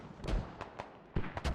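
Mortar rounds in the video game Squad thud and crack in a quick irregular series, some muffled and some sharper, several landing within under two seconds against a low ambient rumble.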